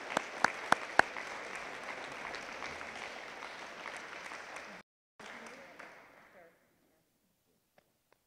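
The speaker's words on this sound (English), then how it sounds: "Let's give her a round of applause." Audience applause at a school board meeting, a steady wash of clapping from a room of people with a few sharper near claps, breaking off abruptly then trailing away into silence.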